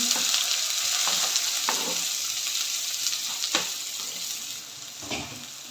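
Chopped onion with cumin and a green chili frying in hot oil in a pan for brinjal masala curry, a loud steady sizzling hiss with a few soft stirring scrapes.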